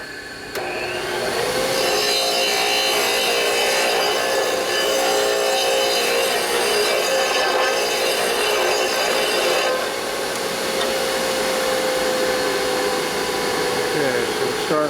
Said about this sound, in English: I'm going to grind a little bit more.